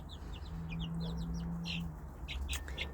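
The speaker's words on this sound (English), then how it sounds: "And the big hens are on the bottom, maxing and relaxing." Hens in a city-farm backyard coop cluck softly in quick short bursts, fairly faint and close, over a steady low background hum.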